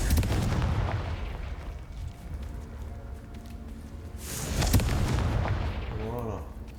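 Spells blasting apart breakable objects in Hogwarts Legacy, a loud burst of explosive crashes and crumbling debris near the start, then a second loud blast with scattering bits around the middle, over low game ambience.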